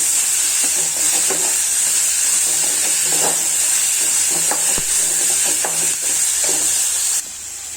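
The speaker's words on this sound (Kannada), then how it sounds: "ಟೊಮೊಟೊನ ಹಾಗೆ ಸ್ವಲ್ಪ ಸ್ಮ್ಯಾಶ್ ಅಂದರೆ ಮೆತ್ತಗಾಗೋವರೆಗೂ ಹುರ್ಕೊಳ್ಳೋಣ" Tomatoes sizzling and frying in a pan for an egg curry, with steady hiss and repeated soft stirring and mashing scrapes, close and continuous, no talking.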